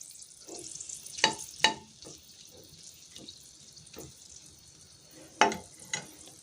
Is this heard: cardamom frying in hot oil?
yes